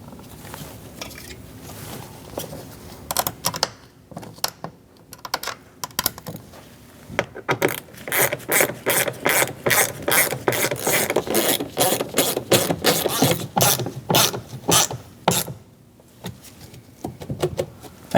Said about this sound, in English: Get the 3 screws started by hand.